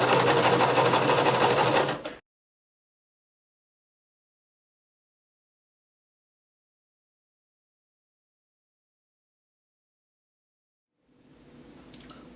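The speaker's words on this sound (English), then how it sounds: "when I am sewing up this flat sleeve" A sewing machine stitches a flat sleeve on a front slit shirt: a loud, steady burst of close motor whir for about two seconds, then silence, with a faint low noise returning near the end.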